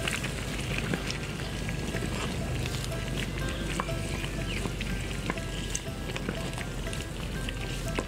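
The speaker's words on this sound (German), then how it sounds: "Das kocht schon relativ gut, also ruhig noch ein bisschen mehr." Steady bubbling and sizzling from a pot of vegetarian potato goulash on the stove, a continuous crackling simmer up close.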